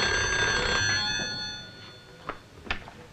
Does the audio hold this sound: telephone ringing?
yes